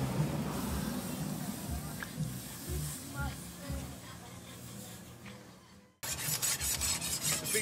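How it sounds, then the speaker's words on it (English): A machete blade scrapes across a large, solid sharpening stone at a blacksmith's shop in Cebu, Philippines, a steady rasping rub that carries on for several seconds before a brief break and a brighter burst of scraping. "Sharpening stone, sir."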